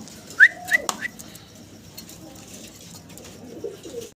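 Fancy pigeons at a seller's loft give a few short cooing and whistling calls close by early on, then quieter rustling and faint coos follow.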